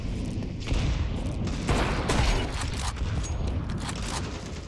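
Gunfire in a first-person shooter game, a dense continuous barrage of shots and booms that stays loud and steady throughout, with no voices over it.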